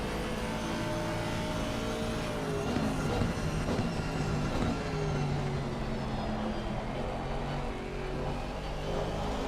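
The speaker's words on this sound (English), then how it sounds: "listen to that engine go blub blub blub blub blub" Aston Martin race car in Assetto Corsa Competizione during a 12-hour endurance race at Imola, its engine droning loudly and continuously with shifting harmonic tones as revs rise and fall.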